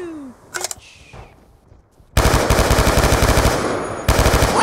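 Automatic gunfire from the video game Black Ops II in multiplayer erupts midway as a dense, loud rapid rattle of shots, pausing briefly before resuming, after a quieter stretch of game effects.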